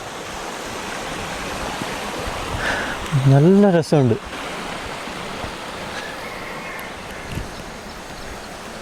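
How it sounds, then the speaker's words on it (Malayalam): Continuous rushing water flows through rocks in a village in Thailand, a steady hiss of flow, while a voice speaks briefly in the middle. "ഈ പാറക്കെട്ടിൻ്റെ ഉള്ളിലൂടെ വെള്ളം ഇങ്ങനെ ഒഴുകുമ്പോൾ ഉള്ള"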